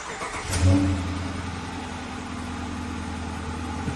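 A car engine cranks and catches with a brief loud surge, then settles into a steady, low idle rumble that carries on evenly, close by and with no talking.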